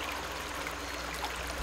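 Water lightly flowing out of a half-inch ram pump pipe, a steady close trickle and splash with a constant low hum underneath, no speech.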